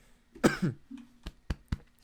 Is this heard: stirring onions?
no